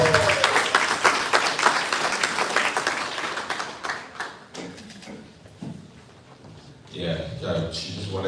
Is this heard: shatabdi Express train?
no